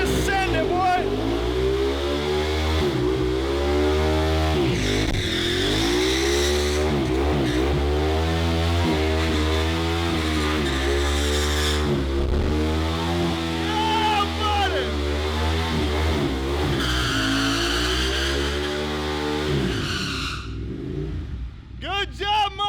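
A rebuilt Ducati superbike engine revs hard and repeatedly, loud and close, sweeping up and down through the gears for about twenty seconds before cutting away, with people's voices faintly mixed in.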